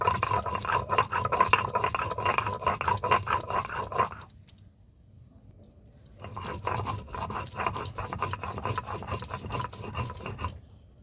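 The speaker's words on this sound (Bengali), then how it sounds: "এখানে শিলের মধ্যে আমি হলুদ, সরষে আর কাঁচা লঙ্কা নিয়ে নিয়েছি। এবার এটা একটু বেটে নিচ্ছি।" Turmeric, mustard seed and green chilli being ground on a flat stone slab with a grinding stone, a steady rasping, scraping rub that runs for about four seconds, pauses briefly, then resumes close and continuous.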